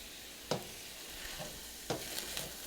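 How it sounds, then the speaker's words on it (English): A spoon scrapes and pushes stuffed pepper filling around a pan, two distinct stirring strokes over a faint, quiet sizzle, with softer scrapes between them. "So I'm just going to mix and stir this for a couple of minutes to blend the flavors"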